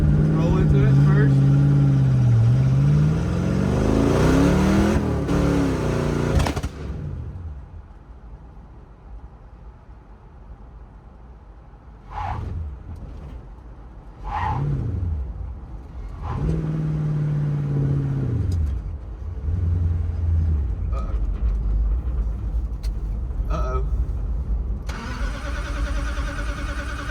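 A Dodge Dart V8 with a four-speed and nitrous, its choke stuck, roars hard as it pulls away from first gear, then drops to a lower rumble with a few sharp revs. Voices talk over parts of it.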